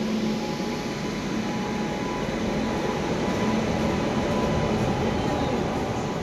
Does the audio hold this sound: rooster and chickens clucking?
no